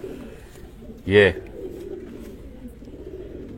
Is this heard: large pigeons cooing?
yes